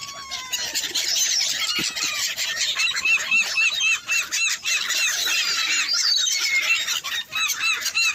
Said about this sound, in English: the big seagulls there, white seagulls, and the pigeons.